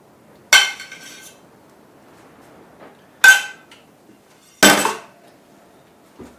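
A metal spoon clinks sharply against a bowl of oatmeal three separate times, each bright ringing tap trailing off quickly, spaced a couple of seconds apart in an otherwise quiet room.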